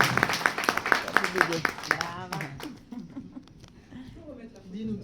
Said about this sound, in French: Je vous demande d'applaudir Kodou, qui va nous parler de son expérience.